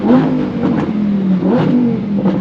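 A Lamborghini sports car engine revs loudly and continuously, rising and falling in pitch with a few sharp throttle blips, close by and with no talk over it.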